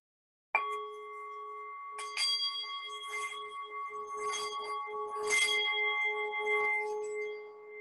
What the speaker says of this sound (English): I'm going to hit the side and go round and round, and you can hear the sound coming from the singing bowl